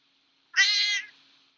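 A cat gives a single clear, close meow lasting about half a second, bright and tonal, then fades into a faint tail with no other sounds around it.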